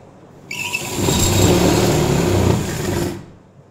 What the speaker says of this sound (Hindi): सबसे पहले हम चोली के लिए सिलाई लगा लेते हैं